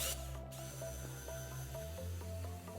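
A Team Corally Torq Master driver drill runs at its maximum torque setting with a close, buzzing motor hum. Repeated ratcheting clicks sound over the hum, and no one speaks.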